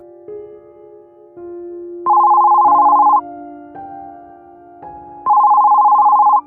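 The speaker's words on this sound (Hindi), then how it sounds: "दो बार रिंग होते ही उनकी नींद टूट गई।" Telephone ringing in the night, a synthetic electronic ring in two bursts, each a longer bright buzzing tone preceded by softer lower tones, clear and close in a quiet room.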